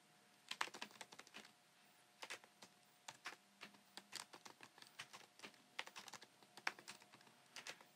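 Typing on a 16-inch MacBook Pro keyboard, a quiet close-up run of soft, irregular key clacks in short bursts with no voices.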